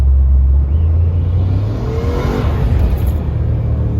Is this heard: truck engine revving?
yes